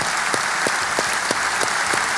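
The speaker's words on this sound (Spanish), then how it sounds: "Un fuerte aplauso al Señor." A church congregation applauding, a dense and continuous wash of many hands clapping together, steady and fairly loud, with a few louder individual claps standing out at a regular pace.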